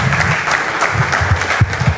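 Audience applause welcoming the evening's speaker at an event for the national day of people with disabilities, a brief, full burst of crowd clapping, steady and close, with no talk over it.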